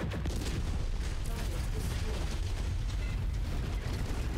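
Mech weapon fire in the video game MechWarrior 5: Mercenaries during a battle against tanks, a dense steady barrage of booming shots and rumbling impacts, loud and continuous throughout.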